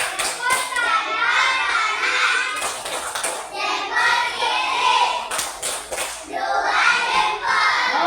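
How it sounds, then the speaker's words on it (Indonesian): Students in a classroom clap their hands in bursts of applause, fairly close and loud, mixed with children's chatter and a teacher's voice. "Oke, bertepuk tangan dulu."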